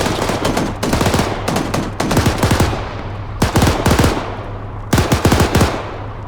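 Automatic gunfire in the military shooter game ArmA 3 rattles out in about five close, loud bursts of rapid shots, separated by brief pauses.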